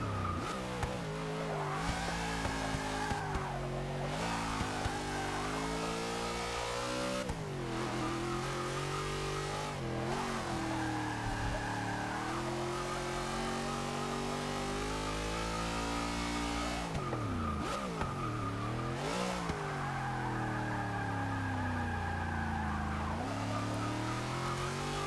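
A 1966 Ford Country Squire in Forza 6 roars continuously under heavy power, its engine revving up and down through gear changes as the rear tyres squeal while struggling for traction, loud and sustained with no speech.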